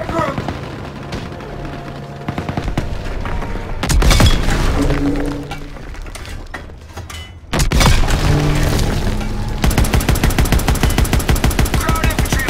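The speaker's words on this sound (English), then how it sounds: "Small arms fire! They're assaulting our guys!" Dense Call of Duty WWII battle: booming explosions, rapid machine-gun bursts and crackling rifle fire pile up loud and continuous, with a sustained burst of automatic fire closing out the stretch.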